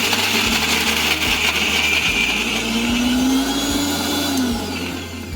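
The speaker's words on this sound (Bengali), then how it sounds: "ধোয়ার পরে ব্লেন্ডারে ব্লেন্ড করতে দিয়ে দেব।" An electric kitchen blender grinds washed jackfruit seeds in a steady, loud motor whine that shifts pitch midway, with a rough grinding texture running continuously for several seconds and no talking.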